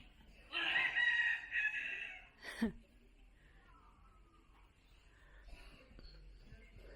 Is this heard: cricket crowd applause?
no